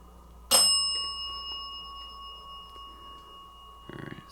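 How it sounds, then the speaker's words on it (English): In a quiet old theater, a small bell rings once with a sharp, bright strike, and its pure tone lingers and fades for several seconds. A faint rustle or murmur follows near the end. "Ringing the bell doesn't answer our question."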